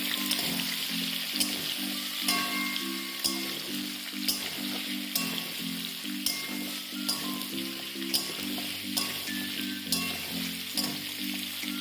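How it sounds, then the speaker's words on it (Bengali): Potatoes fry in leftover oil in a pan, with an even, persistent sizzle and light crackling that carries on without a break. "বেঁচে যাওয়া তেলেই এবারে আলুগুলো ছেড়ে দিচ্ছি।"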